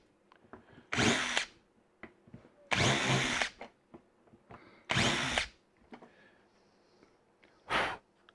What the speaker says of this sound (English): I'm just going to open them up with this other drill bit